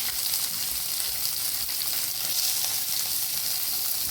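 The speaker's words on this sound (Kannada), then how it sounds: "ಹದ ಉರಿಯಲ್ಲಿ ಸ್ವಲ್ಪ ಹೊತ್ತು ಹುರಿದುಕೊಳ್ತಿದ್ದೇನೆ" Onions with coriander stems fry in a pan over a medium flame for a mutton rasa, giving a constant dense sizzle with light stirring scrapes, close and even throughout.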